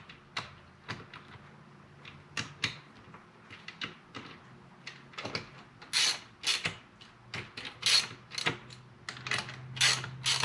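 Hex head bolts tightened by hand on a lift column assembly, a string of close ratcheting clicks and creaks in short irregular bursts that grow louder toward the end.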